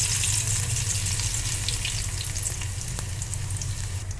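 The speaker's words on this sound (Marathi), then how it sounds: "तेल चांगलं गरम झालं की मी ते लसूण घालणार आहे" Garlic fries in hot oil with a steady, dense crackling sizzle and an underlying low hum, close and continuous from start to end.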